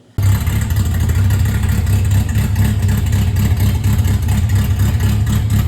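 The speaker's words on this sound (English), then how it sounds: "You hear a lot of road noise." A steady low engine drone and road rumble fill a classic truck's cab, with the exhaust dumping under the bed, constant and loud throughout with no talking.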